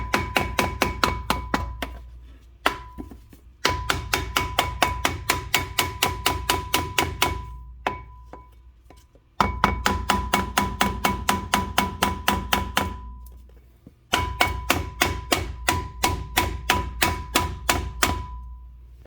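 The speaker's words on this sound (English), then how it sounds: "so we are going to do some hits from the back of the rotor here with a piece of wood, so we can remove it." A piece of wood strikes the back of a 2016 Kia Sedona front brake rotor to loosen it, producing loud, close, rapid knocks in runs of about a dozen, separated by brief pauses.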